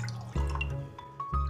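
Water is poured for Turkish coffee, measured cup by cup: a few distinct splashes and drips land over a steady low rumble, the louder pours coming at the start and near the end.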